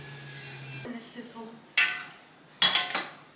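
Metal utensil scraping tomato paste around a cooking pot, two short bursts of scraping and clinking close up after a brief low hum, with quiet speech in between.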